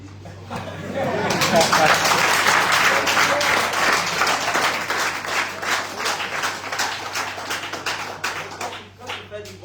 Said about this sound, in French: De se mettre debout, il faut qu'on applaudisse.